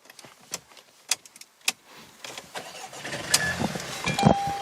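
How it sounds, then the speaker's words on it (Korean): A Mercedes-Benz CLA200 engine cranks and catches near the end after a few clicks and clunks from inside the vehicle, then settles into a steady running hum. "그다음에 이 차량 시동 바로 한번 걸어볼게요"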